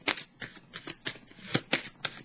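Tarot cards being shuffled in a quick series of about seven crisp riffling bursts, close and fairly quiet, with no talking.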